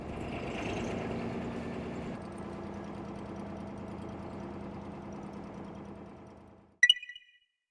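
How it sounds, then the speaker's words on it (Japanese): A fishing boat's engine runs steadily as the boat heads out to the fishing grounds on the water, a continuous mid-pitched drone that fades out near the end before a brief clatter. "少しずつ馬力ハンドルを上げながらですね、エンジンを温めながら漁場に向かいたいと思います。"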